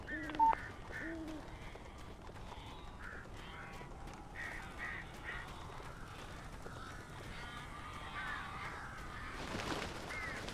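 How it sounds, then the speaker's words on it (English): Crows cawing inside a dim building in Alan Wake Remastered, a few harsh calls scattered over a low, continuous ambient drone, moderately distant, with no talk. "These birds are weird."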